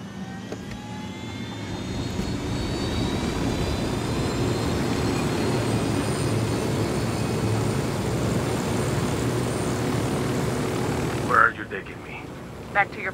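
A helicopter flies in the video game Ghost Recon Wildlands, a loud, steady rotor and engine drone that runs unbroken for about eleven seconds, then cuts off abruptly.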